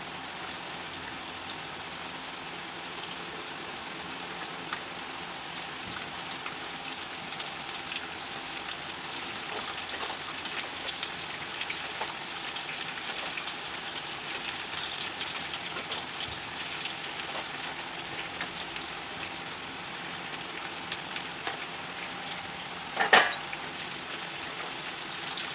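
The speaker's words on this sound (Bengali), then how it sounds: "আলু দিয়ে দিচ্ছি, আলুটা একটু ভেজে নেব।" Potatoes fry in a pan with a steady, even sizzle and hiss that lasts throughout, close and moderately loud, with one brief clatter near the end and no voices.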